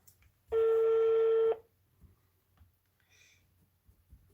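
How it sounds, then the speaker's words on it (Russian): A single sustained telephone keypad tone sounds clearly for about a second on a phone call, followed by faint quieter beeps and low background noise. "Звоним, звоним. 2 раза звоним."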